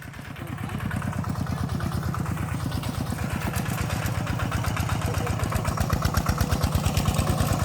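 A small single-cylinder walking tractor engine, an ET11, chugs steadily and close by, its rapid regular pulsing holding constant and growing slightly louder, with no voices.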